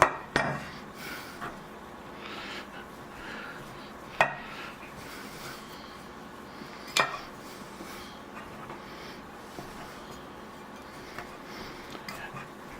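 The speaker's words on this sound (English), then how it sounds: "I'm using a pastry blender." Soft scraping and mashing as a pastry blender cuts unsalted butter into flour in a bowl for biscuits, with a few sharp metallic taps against the rim, quiet and close.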